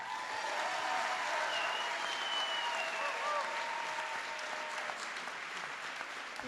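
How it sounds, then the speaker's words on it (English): A graduation audience at TSIBA's 2023 ceremony applauds a speaker, with sustained, even clapping from a large crowd that fills the hall at steady volume, with a few faint cheers and voices mixed in. "Another big round of applause for Dr. Randall."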